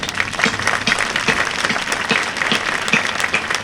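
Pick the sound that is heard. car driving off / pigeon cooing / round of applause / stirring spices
round of applause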